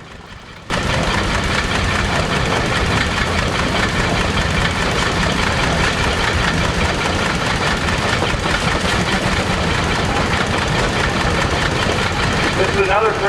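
A 50 horsepower Frick steam engine, 8.5 by 10 with a new boiler, runs at a steam expo, a loud, steady mechanical chugging and rumble that holds throughout after a short quieter opening.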